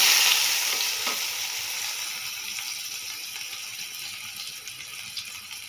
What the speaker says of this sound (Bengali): মাশরুমটা এবার ভেজে নেব